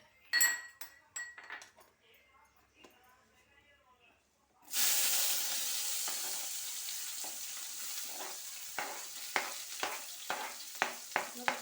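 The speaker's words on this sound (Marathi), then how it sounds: "आता टाकत आहे कांदा." Chopped onion dropped into a hot pan with spices for a methi paneer dish, bursting into a loud steady sizzle after a few utensil clinks, with rhythmic spoon scrapes and taps as it is stirred.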